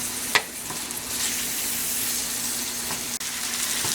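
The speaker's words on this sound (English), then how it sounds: "Once your coconut oil is nice and hot, you're going to add your peppers and onions. And then you're just going to saute these for about 3 to 4 minutes" Peppers and onions sautéing in hot coconut oil in a pan, with a loud, continuous close-up sizzle and an occasional light knock of a utensil.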